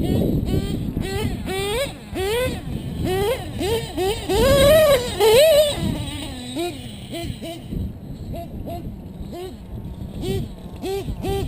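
An RC boat powered by a modded 28cc Rex engine runs on open water, its high, buzzing note rising and falling in repeated revs. It fades toward the end, with wind rumbling across the microphone throughout.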